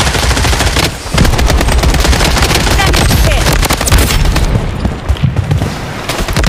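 Automatic gunfire rattles in the Blood Strike mobile shooter, with rapid, close bursts that pause briefly early on and then resume in dense, overlapping volleys.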